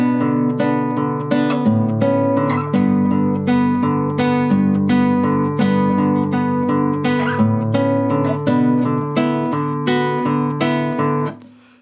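A classical guitar slowly plays the opening line of a song, with clear, close plucked notes in a steady fingerpicked rhythm and a bass thumb line, ringing alone and fading out at the end.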